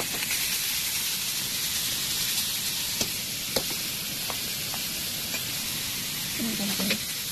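Pork sizzling in a hot pan while cooking an Ilocano dish, a steady loud hiss and crackle with a few sharp pops, heard alone without talk.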